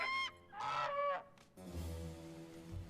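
Geese in a My Little Pony cartoon scene honk in a few loud, close calls, followed by a lower rumbling noise.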